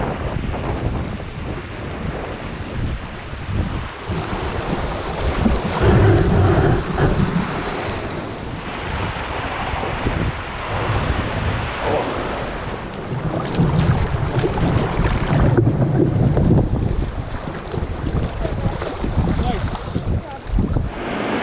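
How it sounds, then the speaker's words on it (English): Standing waves on river rapids heard from a canoe on a long wilderness expedition, a steady rushing, churning roar of moving water mixed with wind buffeting the microphone, continuous and fairly loud throughout. "Some nice standing waves right here."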